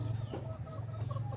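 Goliath chickens cluck softly and continuously at close range, with a low steady hum underneath.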